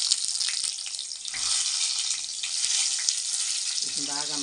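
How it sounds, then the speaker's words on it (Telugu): Eggplant pieces frying in plenty of hot oil in a pan, a loud continuous crackling sizzle throughout, with a faint voice entering near the end. "వంకాయలు వేగాలి."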